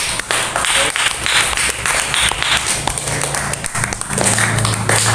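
A classroom of students applauds during a lesson, a loud, uneven burst of close claps and taps with some voices mixed in throughout.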